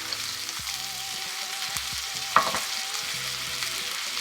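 A thick steak sears in a hot pan with melted butter, a steady loud sizzle with crackling spatter and a sharp clink midway; no voices.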